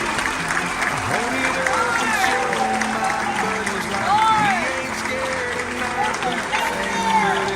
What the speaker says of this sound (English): So please give our veterans at gate A5 a huge round of applause.